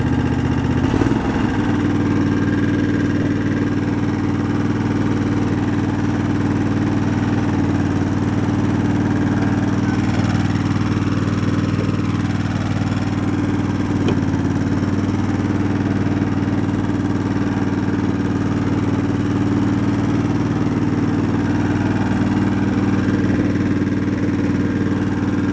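A tractor engine runs continuously with a steady, mid-pitched mechanical drone and faint vibration, close and even in loudness, briefly varying in tone early on before settling into a constant idle-like hum.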